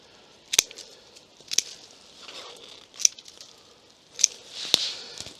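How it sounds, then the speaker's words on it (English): Secateurs snip through brambles beside a coastal footpath, five sharp, close cuts spaced about a second apart with faint rustling of stems between them. "so when you get brambles infringing on the path, a few snips,"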